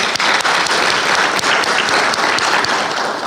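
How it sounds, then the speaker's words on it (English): An audience at an award ceremony breaks into a steady round of applause, dense and continuous clapping filling the room from start to finish with no voices over it. "give her a round of applause"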